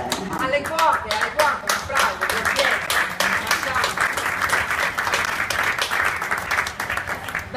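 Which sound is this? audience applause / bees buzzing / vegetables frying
audience applause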